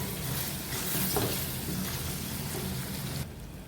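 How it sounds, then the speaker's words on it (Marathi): Onion and tomato stir-frying in a pan for dhaba-style chicken, a steady close sizzle with soft stirring scrapes that drops away abruptly near the end. "हे सगळं मिक्स करून घेऊया."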